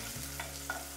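Tomato being stirred and sautéed in a hot pan, a brief soft sizzle with a couple of light scraping stirs over a steady low hum, close and fairly quiet.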